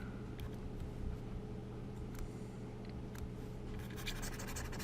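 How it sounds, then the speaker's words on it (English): A classroom board being erased during a math lesson, a soft continuous scratchy wiping with faint dry strokes over a steady low hum, fairly quiet and unbroken. "First, I want to erase this board."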